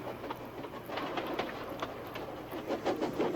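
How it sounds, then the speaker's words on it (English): A train pulls a line of freight cars, rumbling steadily with a rhythmic clickety-clack of wheels over the rail joints, moderately close, with no voices. "he was pulling a dirty freight train"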